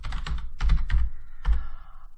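Typing on a computer keyboard, a close, loud run of several quick key clacks in uneven bursts, ending with a final keystroke and a fading tail.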